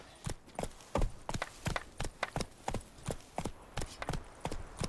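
Roach the horse gallops in The Witcher, rapid loud hoofbeats in a driving triple rhythm that repeats close and clear for several seconds, with no talk over it.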